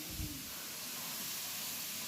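Meat sautéing in a pan, a steady close hiss and sizzle of frying with soft crackle throughout.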